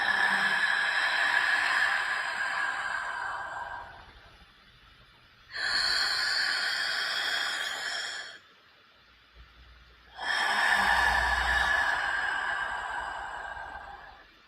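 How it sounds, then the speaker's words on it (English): Ujjayi breathing, slow audible breaths drawn through a constricted throat with a soft oceanic hiss; three long breaths of several seconds each, close and clear, separated by brief quiet gaps. "Making that noisy kind of fog-inducing sound at the back of the throat."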